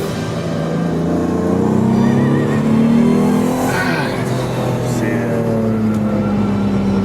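An Alfa Romeo 156 V6 engine drones and revs steadily from inside the car while driving in second gear, a continuous loud, rising and falling engine note with road noise throughout.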